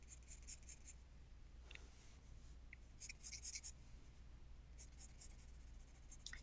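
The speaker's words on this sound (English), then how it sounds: "Can you guys actually hear the pencil on the paper?" Pencil scratching on paper while drawing faces, a faint, quiet scraping that comes in short bursts of strokes with pauses in between, close to the microphone, with no talking.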